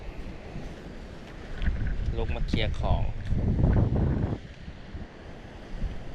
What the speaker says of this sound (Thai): ตอนนี้โดนฝนร้อยหมดแล้วลมแรงมาก